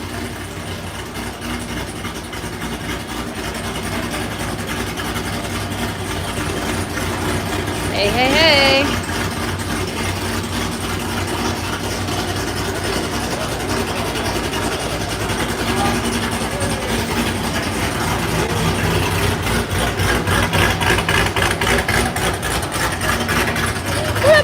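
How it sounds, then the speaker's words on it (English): A loud car engine idles on the road near a dyno session, a steady low drone heard from inside the cabin throughout, with a voice calling out briefly over it. "I'm about to die back here. This car's so loud."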